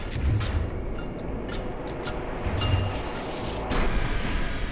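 Archers loosing volley after volley of arrows during a gate siege in Kenshi, heard as a dense, continuous rumbling wash of battle noise with heavier thumps swelling near the start, middle and end, with no talk over it.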